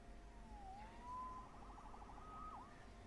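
A police siren in the video game Spider-Man on PS4 wails and yelps in rising and falling sweeps, fairly faint and distant over a low background rumble.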